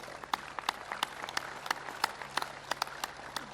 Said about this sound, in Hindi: जोरदार ताली हो जाए भाई अंग्रेज के लिए